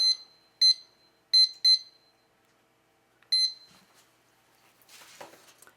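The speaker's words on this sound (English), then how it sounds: "I'm going to set my timer for 20" A kitchen timer being set for a baking pie emits a few short, sharp electronic beeps in an irregular cluster, followed by faint rustling handling noise.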